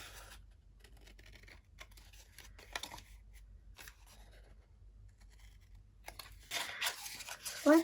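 Paper pieces for a pop-up art journal being cut with scissors, giving faint, scattered snips and crinkles at close range, with a brisker burst of cutting near the end.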